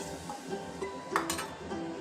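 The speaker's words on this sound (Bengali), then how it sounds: "এবার যথারীতি আলুগুলো একটা বাটির মধ্যে তুলে নিচ্ছি।" Light clinks and scrapes of a utensil against metal and a dish, a few quick knocks as fried potatoes are moved from oil into a bowl.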